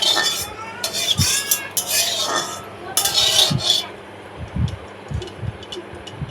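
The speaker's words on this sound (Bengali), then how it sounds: "রাঁধুনি ফোড়নটা দিয়ে একটু তেলটা নাড়িয়ে নিয়ে" Oil with radhuni seeds is stirred in a pan for fish curry, giving intermittent sizzling bursts and soft metallic clinks of a spoon against the pan, with low thumps between.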